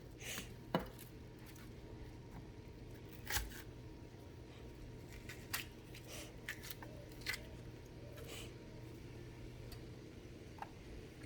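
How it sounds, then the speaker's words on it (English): Onions being chopped with a knife on a board at home, a faint scattering of sharp taps and clicks at uneven intervals, quiet and close, with no talking. "chop these onions up."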